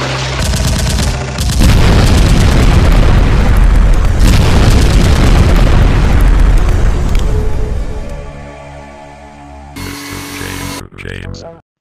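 A loud edited explosion effect bursts in, followed by a long rumbling, crackling roar that slowly fades out, then a few sharp bursts at the end, with no speech over it.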